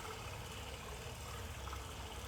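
Gentle flowing water in a calm meditation setting, a steady soft wash with no breaks or distinct splashes.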